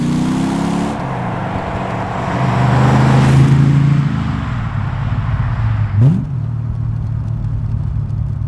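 A 1966 Aston Martin DB5 factory prototype fitted with a V8 engine runs close by, its deep engine note rising and falling in pitch with a couple of revs, loud and steady with no talk.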